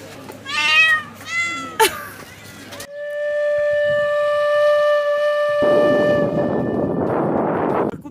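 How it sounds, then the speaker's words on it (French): Hungry cats meow in several loud, close calls at the start. After that a long steady droning tone and broad hissing noise take over. "Mes petits chats. On va faire la queue. On n'a pas à manger. Regardez comme ils ont faim."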